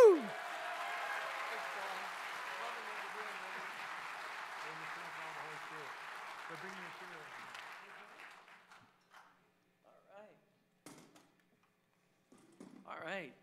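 Audience at a 50th anniversary concert claps steadily for several seconds, the applause tapering off into scattered claps, a few cheers and bits of talk.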